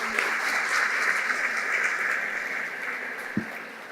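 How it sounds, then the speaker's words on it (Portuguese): A corporate event audience applauds its sponsors and supporters with steady, dense clapping from a large crowd, heard from a distance and holding even throughout. "Eu peço uma salva de palmas para os nossos patrocinadores, apoiadores."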